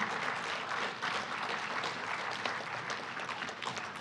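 Sustained audience applause at a county commissioner candidate forum, a steady, dense patter of many hands clapping that holds evenly for several seconds without pause.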